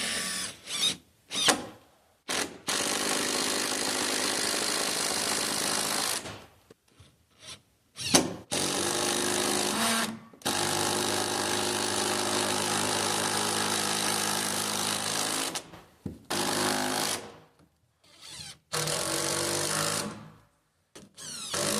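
A power tool drives fasteners for H1Z hurricane ties where wooden roof rafters meet the top plate, in repeated loud whirring bursts of a second to several seconds separated by short silences, close and alone.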